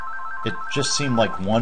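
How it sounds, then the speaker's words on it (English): A mobile phone ringtone sounds in the background, steady tonal lines running under someone talking over a Minecraft gameplay session. "Hold on a second, that's my phone."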